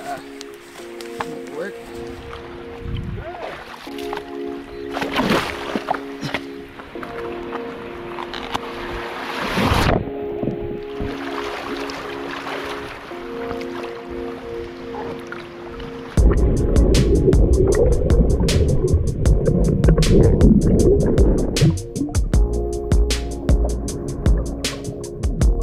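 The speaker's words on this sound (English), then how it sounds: "The wind was creating a lot of chop" Wind and choppy sea water wash around a kayak off the Nova Scotia coast. A continuous rushing roar of gusts and slapping chop gets noticeably louder and rougher partway through, with a sustained tonal layer underneath.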